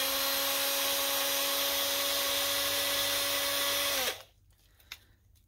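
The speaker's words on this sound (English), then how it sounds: "taking your screw gun or a screwdriver. I suggest a screw gun just because it's faster" A screw gun drives a decorative screw, a steady high-pitched motor whine held close and loud for about four seconds before it cuts off, leaving quiet room tone.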